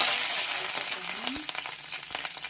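Oil sizzles and crackles steadily in a pan, with scattered sharp pops as mustard seeds spatter, close and fairly loud.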